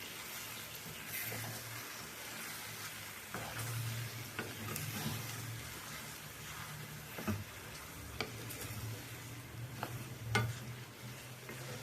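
Leftover chapatti sizzles steadily in a hot pan, with occasional clicks and taps of stirring over the constant frying hiss; no one speaks.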